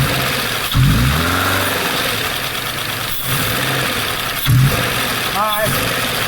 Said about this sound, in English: Yeah, that transmission. Rev it up.